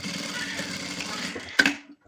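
A sewing machine stitches a chair cover, a steady close whirring hum for about a second and a half that ends in a brief louder burst before stopping.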